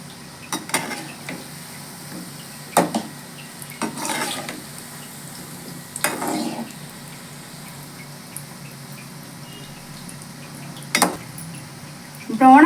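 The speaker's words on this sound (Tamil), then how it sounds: "இப்போ கிளறி விட்டுக்கலாம்." A utensil stirs homemade gulab jamun frying in a pan, making a few short scraping and clinking strokes with quiet gaps between them over a faint frying background.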